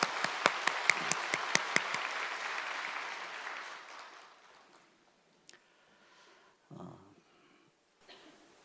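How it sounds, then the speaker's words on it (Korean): A church congregation at an Easter Sunday service gives a burst of applause, with a few sharp claps standing out at the start. The applause fades over several seconds into near silence, broken by a few faint rustles and thumps. "이 시간 우리 가운데 임재하시는 주님께 우리 감사와 영광의 박수를 올려드립니다"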